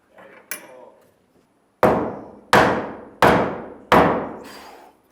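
Hammer nailing off the top plate of a framed wall during a staircase build. There are a couple of light knocks, then four loud, evenly spaced hammer strikes with ringing decays, close by.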